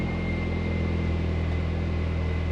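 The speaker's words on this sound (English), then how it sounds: "so it started all right and we're idling nicely" A Mini Cooper S R53 engine, just fitted with Bosch 380cc JCW injectors, idles in sub-zero cold: a steady, even low rumble with a constant hum that runs unbroken throughout.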